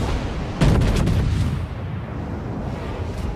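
A New Mexico battleship in World of Warships fires high-explosive shells: a heavy salvo of closely spaced booms bursts out, then fades into a low rolling rumble.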